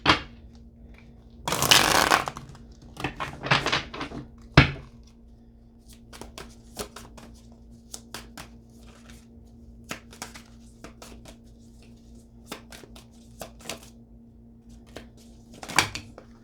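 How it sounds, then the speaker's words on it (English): A brand-new deck of tarot cards is shuffled close by in a few quick riffling bursts, then soft intermittent taps and card handling continue quietly with no talking. "let me get a shuffle. I gotta season these cards."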